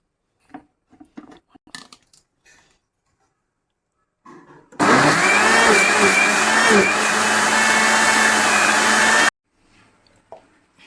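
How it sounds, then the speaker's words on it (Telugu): After faint handling clicks, a mixer grinder blending mango pieces with sugar roars loudly and steadily for about four and a half seconds, then stops suddenly, followed by light kitchen clatter. "ఇప్పుడు మిక్సీ పట్టుకుందాం"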